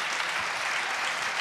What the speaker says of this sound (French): je crois que ça mérite les applaudissements